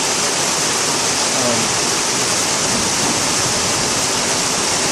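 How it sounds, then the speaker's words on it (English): Heavy rain pours down hard and constantly as floodwater runs high, a dense, loud, unbroken hiss that fills every moment without any pause. "The rain's picking up right now, which is scary because the water's already so high."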